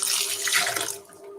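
Liquid poured in a steady splashing stream for about a second, close and fairly loud, then trailing off to a faint trickle.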